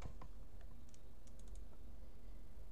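Quiet, steady typing on a computer keyboard entering commands in a terminal, a light patter of key taps with a few brighter clicks, close and without talk.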